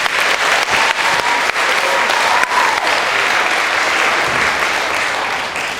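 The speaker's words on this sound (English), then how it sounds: "So big hand for Mr. Joe" An audience at a school dance performance claps in loud, sustained applause that fills the room continuously and stays dense throughout.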